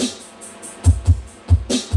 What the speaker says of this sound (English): little bit more of a natural sounding kick